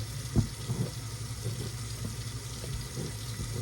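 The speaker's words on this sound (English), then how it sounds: "little bit more water. And I'm gonna put all that in there." Water pours from a tap into flour, a steady close hiss and trickle with a few small splashy bumps near the start, alone without voices.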